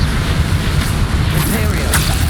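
The Confringo fire spell explodes in the Hogwarts Legacy video game, a loud, heavy rumbling boom that runs under a character's shouted incantations, with sharp bursts of combat noise layered on top.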